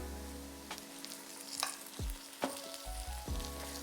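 Ginger and garlic paste sizzles in a hot pan with a steady, crackling hiss, broken by several sharp spatula scrapes and taps as it is stirred.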